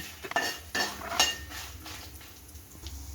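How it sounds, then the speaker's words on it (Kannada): A spoon clinks and scrapes against a pan while roasting and stirring for ragi rotti with drumstick leaves, several close metallic knocks followed by quieter stirring. "ಚೆನ್ನಾಗಿ ಕೈ ಬಿಡ್ದರೆ ರೋಸ್ಟ್ ಮಾಡ್ತಾ ಇರಿ"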